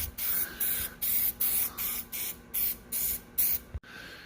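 Corn planter parts being spray painted, a rapid series of about nine short hissing bursts in an even rhythm, close and fairly loud, then a final clunk and quiet.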